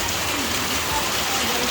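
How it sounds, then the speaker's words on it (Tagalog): Steady rain falling outdoors on a farm in the hills, a constant dense hiss of drops on surfaces with no break. "Walang tigil ang ulan."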